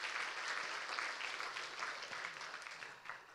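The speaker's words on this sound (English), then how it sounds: "Give them a round of applause even though they're not with us." An audience at a sustainable aviation conference applauds steadily, with a close, even wash of clapping for a few seconds and no talking over it.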